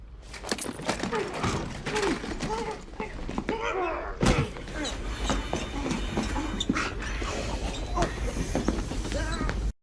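Metallic clanks and a rolling rumble of a train on railway tracks, with irregular mechanical knocks and scraping, moderately loud and close, from the film No Country for Old Men.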